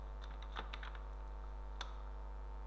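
Someone types a new password on a computer keyboard, producing a brief cluster of soft key clicks followed by a single later tap, faint over a steady electrical hum.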